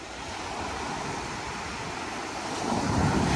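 Ocean surf rolling onto the beach at Seaside Heights, New Jersey in November, a steady broad wash mixed with wind noise that swells louder near the end, with no voices.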